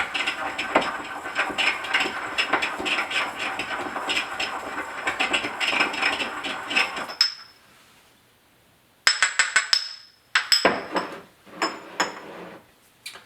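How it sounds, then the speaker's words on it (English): Sage leaves ground in a mortar and pestle, with a busy run of close scraping, tapping grinding strokes, then a pause and a few separate sharp clinks of the pestle against the bowl. "give it a little bit of a grind in your mortar and pestle"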